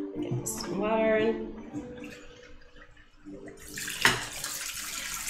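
Tap water running into a kitchen sink while making Hungarian apple pie, a soft hissing flow with brief splashes near the end, heard under someone speaking.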